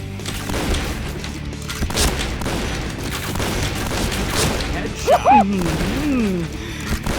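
Point Blank match with repeated bursts of gunfire and booming impacts over a steady din of battle, a short whistling sweep cutting through near the end.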